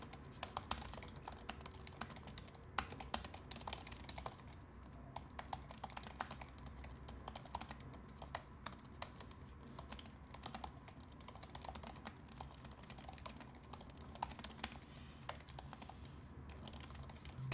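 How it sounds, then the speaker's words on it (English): Continuous typing on a MacBook Air M2 laptop keyboard, a quick, irregular stream of soft, close key clicks with occasional heavier taps, quiet and alone. "This is a typing test so you can kind of hear it for yourself."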